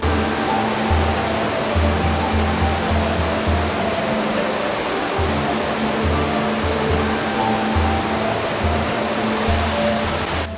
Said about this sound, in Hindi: बर्फ पिघलकर झरने का रूप ले नीचे मंदाकिनी में गिर रही है।